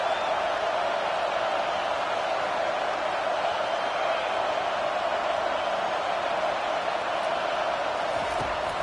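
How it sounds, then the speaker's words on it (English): Stadium crowd noise in a football video game on third down, a steady, dense roar that holds constant and moderately loud throughout without breaks. "Decibels rising as the crowd gets behind this defense on 3rd down."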